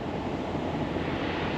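Strong, pounding wind roars outdoors beside a flatbed truck load, a dense, continuous rush buffeting the microphone with no letup, loud and unbroken throughout, with no voices.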